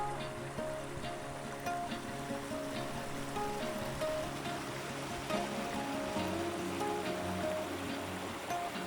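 Cherry Brook flowing steadily through woodland preserve, a continuous broadband rush of moving water with no voices, holding an even level throughout.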